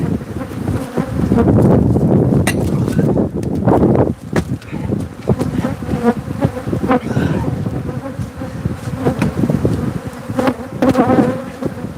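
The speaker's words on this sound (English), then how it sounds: "these are the meanest bees I've seen so far" A swarm of Africanized killer bees drones loudly and continuously close to the microphone, a dense angry buzz with individual insects whizzing past and faint rustling underneath.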